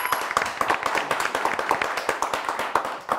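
Studio audience applauding on a Turkish TV word game show, a steady dense patter of many hands clapping close by, with no talk over it.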